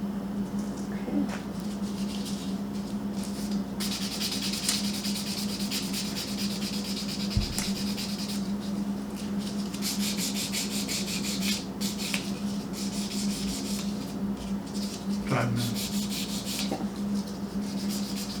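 An acrylic nail fill is buffed in a cosmetology class with continuous close, steady rubbing and sanding strokes, alongside a constant background hum.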